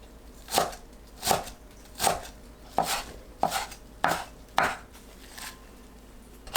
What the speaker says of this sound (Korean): 뿌리는 1cm, 잎은 2cm 길이로 썰어주세요. 알뿌리는 칼로 눌러 으깬 뒤 썰면 돼요.